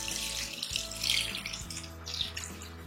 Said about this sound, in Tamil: இந்த டைம்ல நம்ம தேங்காய் பால் ஆட் பண்ணிடலாம்